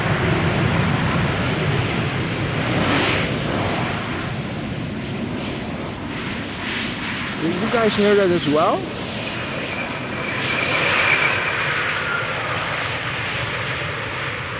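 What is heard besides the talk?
airliner thrust reversers and squeaky brakes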